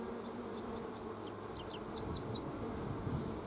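A swarm of honeybees crawls over a heavy honey-filled hive frame, their buzzing a dense, even hum with scattered higher whines from individual bees flying close by.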